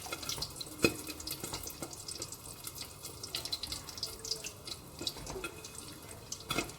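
Water pours steadily into a cooking pot over fish for asam pedas. It makes a continuous, fairly faint splashing and trickling with small drips, heard close up without any talk.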